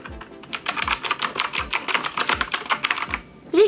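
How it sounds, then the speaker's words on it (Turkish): Keys pressed rapidly on a Rampage KB-R19 metal gaming keyboard, a dense run of close, crisp clicks and clacks in quick succession, ending with a brief squeak. "klavyemizin tuşlarının üzerine basarak klavyemizin tuşlarına renk verebilirsiniz veya rengini değiştirebilirsiniz"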